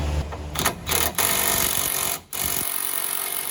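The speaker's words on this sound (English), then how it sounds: "what's the point of getting a cordless impact gun if you can't even take a bolt off" Cordless impact gun hammering at a caliper bolt on a 2012 Honda Pilot during a brake job, loud continuous rattling bursts with a brief pause between them.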